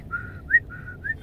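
A person whistles a short simple tune of four brief notes that alternate between a lower and a higher pitch, soft and close, with faint background noise and no talking.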